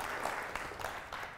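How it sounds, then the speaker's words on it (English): An audience at a sports and ministry talk claps for a volunteer, a steady, fairly faint wash of hand claps with a few sharper bursts, with no voices over it. "Let's give Josiah a round of applause."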